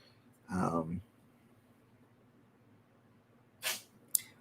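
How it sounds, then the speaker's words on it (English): A cat sneezes briefly and sharply near the end, after a short burst of louder noise at the start, with quiet between. "Bless you again, cat."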